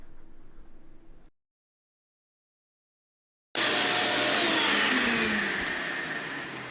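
Shop vac set to blow, pushing air through a 4th Gen 4Runner V8 exhaust fitted with Doug Thorley headers to check for leaks; loud steady broadband whoosh starts abruptly after a silent gap, following a fainter hum at the start.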